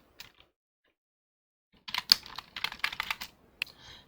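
Keys on a computer keyboard pressed, a few faint clicks early, then a quick burst of close taps and clacks after a pause, ending in a soft rustle.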